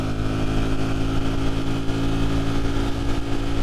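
Ducati Streetfighter V4 motorcycle pulling up to cruising speed, a loud steady engine hum with strong harmonic tones and wind noise, rising smoothly over a few seconds without talk.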